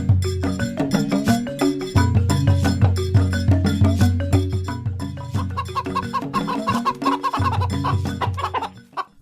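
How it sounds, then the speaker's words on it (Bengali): A flock of chickens clucks busily while a man scatters feed, the dense overlapping calls running continuously and fairly loud with a tonal backing throughout. "এই লোকটি তো দেখছি অনেক মুরগিকে খাবার খাওয়াচ্ছে"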